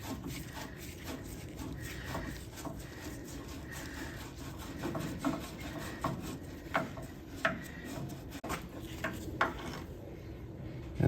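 A plug on a CJ-2a Jeep is spun out by hand, giving repeated metallic scraping and rubbing turns with small clinks, close and moderately loud, ending in a sharper knock.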